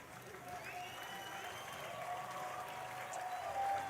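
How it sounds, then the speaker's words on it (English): Crowd applause at a baseball game, a steady broad wash of clapping held at a fairly quiet distant level for the whole stretch, with faint whistles or calls threaded through. "Big round of applause from the crowd."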